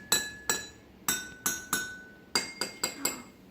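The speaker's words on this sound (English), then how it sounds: "Because that's a small glass, it makes high tones." A small drinking glass is tapped again and again in an irregular rhythm, each strike giving a bright, high, ringing clink that decays quickly; about ten strikes, close and alone.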